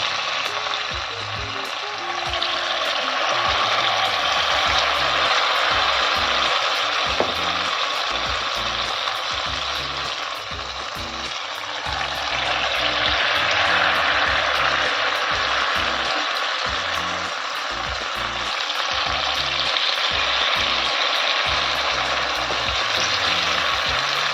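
Vrat bhaji fritters deep-frying in hot oil: a loud, continuous crackling sizzle that swells and eases in long waves, heard close up over about twenty seconds, with no voices.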